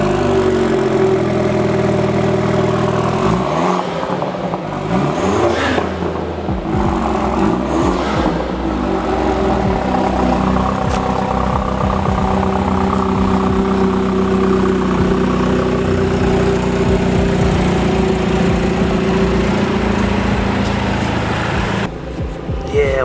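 A BMW F30 with a B48 engine and an MST Performance intake runs loud and close. A steady engine drone rises and falls with a few revs, and a voice is faintly audible under it.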